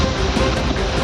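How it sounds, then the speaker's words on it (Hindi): Fierce floodwater roaring through a river in the Uttarakhand hills during heavy monsoon rain, a dense, loud, continuous rushing surge with no pauses. "नदियों की प्रचंड लहरों का शोर"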